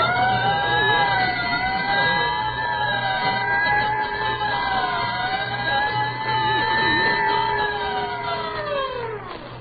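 A Texaco Fire Chief gasoline siren wails steadily in long rising and falling sweeps, loud and continuous, with a thin, narrow-band old radio-broadcast quality. No voices are heard over it.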